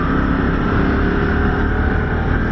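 A Harley-Davidson CVO Pan America motorcycle engine runs at a steady, loud drone, a continuous close-up mechanical hum with no pauses or talk.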